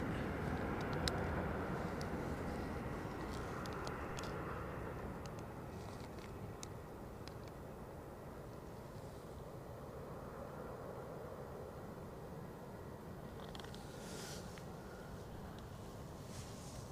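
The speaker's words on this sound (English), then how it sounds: "I see another BA zooting along the taxiway. So an A320NEO," A British Airways A320neo taxiing at Edinburgh Airport, a steady low jet-engine rumble and whine heard from a distance that holds at an even level throughout, with a faint higher hiss rising briefly near the end.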